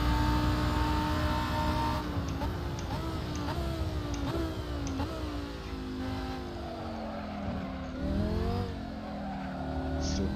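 A Lamborghini Huracan Performante engine in Assetto Corsa at Monza roars close and loud, rising through repeated upshifts with distinct gear-change steps, then dropping and revving again as the car brakes and accelerates.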